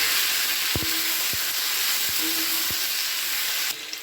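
Cauliflower fries in a pan with a loud, steady sizzle while a utensil taps and scrapes a few times as it's stirred.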